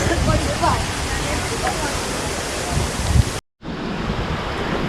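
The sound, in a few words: waterfall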